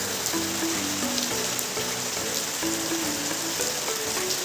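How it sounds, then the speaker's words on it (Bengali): Heavy rain falling steadily outside a home, a dense even hiss of drops on surfaces with faint patters, constant and moderately close with no voices. "সেই একই ধাঁচেই বৃষ্টিটা হয়েই যাচ্ছে"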